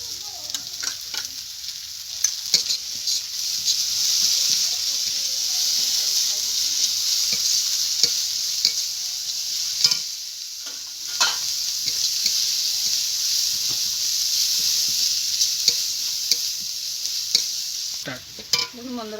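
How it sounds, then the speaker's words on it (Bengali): Carrots and spices with turmeric powder fry loudly in a pan for egg and spice pasta, a steady close sizzle broken by repeated sharp scrapes and stirring clatters, no voices. "দেবো একটু হলুদ গুঁড়ো, ভালো করে ভেজে নেব"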